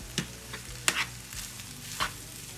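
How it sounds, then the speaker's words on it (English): Cooked rice mixture is stirred in a pan, with a few distinct spoon scrapes and taps over a soft background sizzle. "So right now I'm just stirring all this together."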